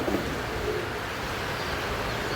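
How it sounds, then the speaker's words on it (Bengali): Rasgolla pigeons, a male and female pair kept at a Bangladeshi farm, cooing softly and steadily against a constant noisy background, with no talk. "ভাই রাসগোলা কবুতর, চুইঠাল রাসগোলা কবুতর, খুব সুন্দর পেয়ার কবুতর।"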